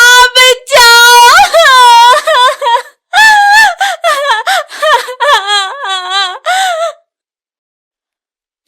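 A woman screams and wails in a horror story sound effect, loud piercing cries and sobbing moans repeated in long bursts, then silence.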